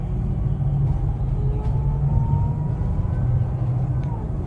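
A sleeper bus engine labours uphill in a low, continuous, heavy rumble that stays loud and steady.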